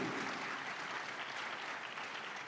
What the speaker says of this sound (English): Why are you sitting there not clapping for yourselves?